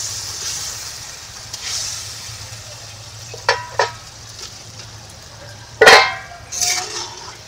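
Fried aar river fish going into a boiling spicy fish curry (jhol), with a soft bubbling hiss under a few sharp clinks and one louder splash and scrape from the pot.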